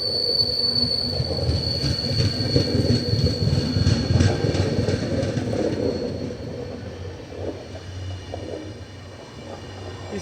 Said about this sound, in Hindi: ये है SMVT बेंगलुरु मुर्डेश्वर एक्सप्रेस